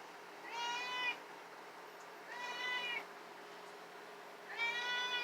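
A house cat meows three times in drawn-out, complaining cries spaced about two seconds apart, close and clear over a quiet room.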